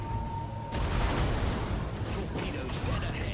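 Heavy naval gunfire from a warship broadside in a naval battle video game, deep rumbling booms and blasts rolling over a noisy battle bed, with a player speaking over it.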